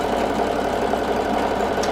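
A sewing machine stitches quilt blocks for a Christmas quilt with a fast, even mechanical buzz, running steadily and close by with no pauses.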